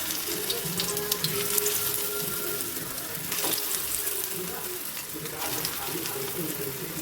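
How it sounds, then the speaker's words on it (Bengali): Potato tikkas fry in oil in a wok, giving a continuous bubbling sizzle with occasional sharp crackles and some light clatter, steady and close. "এখন আলু টিক্কাগুলো কি সুন্দর ভাজা হয়ে গেছে"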